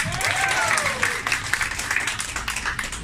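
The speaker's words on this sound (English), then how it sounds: "Let's give all a big round of applause." Audience applause fills a hall at a corporate anniversary event, steady dense clapping throughout with crowd noise and a faint tonal swoop near the start.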